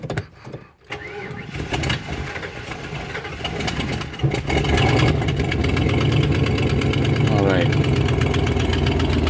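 A cheap used RV engine cranks and catches partway through, then settles into a loud, steady idle close by; a brief spoken remark comes early on.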